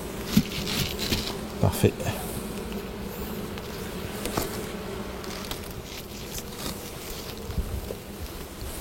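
A steady insect hum of a honeybee colony at a Kenyan-style top-bar hive made of straw, continuous and moderately close, with a person speaking briefly over it.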